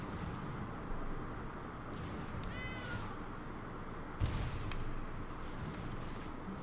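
A single short cat meow sound effect from the Magic: The Gathering Arena card game, faint over a low steady background hum, followed by a soft thump and a few clicks.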